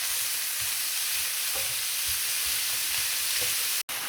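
Food sizzles in a pan as it browns, giving a loud, dense frying hiss with faint stirring knocks, cut off abruptly just before the end.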